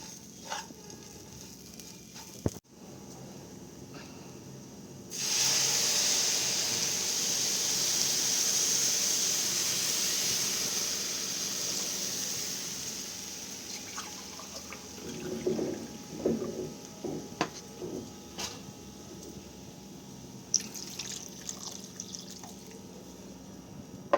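Water poured into a hot pan of oats and vegetables: a quiet background hiss, then a loud rush of sizzle that fades into softer bubbling, drips and stirring clinks, with no one talking.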